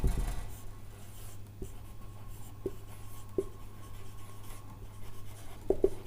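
Chalk or marker scratches and taps across a board as chemical names such as ammonia, methylamine and aniline are written out, quiet intermittent strokes with a few sharper knocks over a faint room hum.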